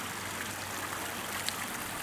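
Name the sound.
small stream flowing in Ardèche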